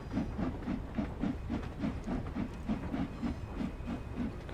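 Steam locomotive in Train Sim World 2 hissing as the regulator opens, with rapid rhythmic chuffs, about four per second, over a continuous steam hiss.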